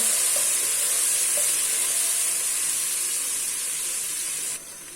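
Steady, close sizzling hiss of ginger garlic paste frying in a hot pan, continuous for several seconds before it drops slightly quieter at the end.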